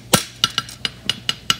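Hammer striking a hot horseshoe on an anvil while forging a fullered front shoe, seven sharp metallic ringing blows in quick, slightly uneven rhythm, close and loud, with no talk.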